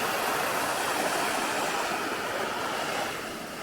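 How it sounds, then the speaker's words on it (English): Water rushing loudly over rapids at the foot of a tall waterfall in Wales, a steady roaring wash with no pauses, close and full throughout before easing slightly at the very end. "This is the bit I like, when there's the rapids, you can hear the water."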